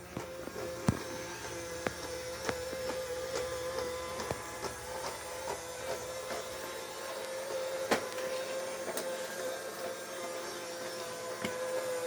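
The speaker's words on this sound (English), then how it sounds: "And this was by iRobot vacuum cleaner." An iRobot robot vacuum cleaner runs at close range with a constant motor whine and hum, punctuated by irregular clicks and knocks as it bumps and rolls across the floor, with no voices.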